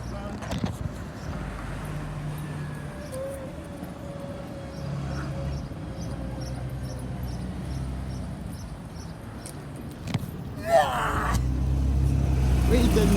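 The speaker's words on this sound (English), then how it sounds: "There's more buses coming now." Buses in Ryde pass by on a street, engines rumbling and rising as they approach, with a louder surge near the end, while people talk faintly nearby.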